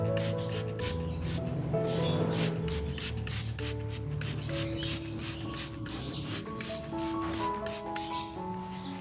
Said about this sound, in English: Once you've sprayed the plant with the nutrient solution